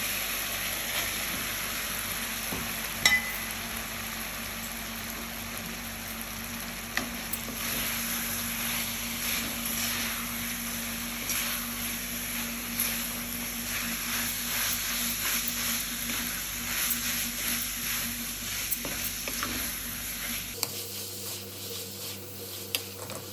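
Schezwan noodles with vegetables stir-frying in a pan, giving a steady, continuous sizzle with occasional clinks and stirring scrapes, close and even throughout with no talking.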